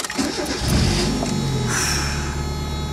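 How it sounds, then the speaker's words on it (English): A 1993 four-cylinder car engine cranks and catches, then settles into a steady mid-pitched idle, close and loud with no voices. "There's nothing better than the sound of a 4-cylinder from 1993."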